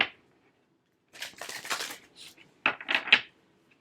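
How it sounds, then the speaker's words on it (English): Oracle cards being pulled and shuffled by hand, with a couple of close bursts of papery riffling and slapping, then a short pause and a few quick snaps as the cards settle, with no talking. "let's pull your oracle cards"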